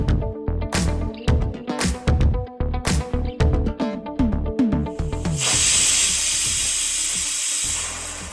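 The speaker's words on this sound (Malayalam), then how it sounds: "ഒരു കുക്കറിലേക്ക് ആഡ് ചെയ്ത് അതിലേക്ക് 2-3 ഗ്ലാസ് വെള്ളം ഒഴിച്ച് ഒരു വിസിൽ വരുന്ന വരെ വേവിച്ചെടുക്കുക" Loud, steady hiss of steam from a pressure cooker on the stove with grapes and water cooking inside, rising after a run of rhythmic clanks and rattles and then holding strong and continuous to the end.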